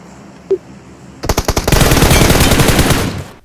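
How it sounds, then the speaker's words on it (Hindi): Machine gun and M4 rifle fire in an online shooter game erupt as a rapid burst of shots that blends into sustained automatic fire, loud and close, preceded by a single faint click. "जो बंदा दूर से मशीन गन और M4 चला रहा है"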